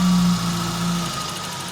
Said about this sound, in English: So let's just rev it a bit so it gets warm faster and the revs get down.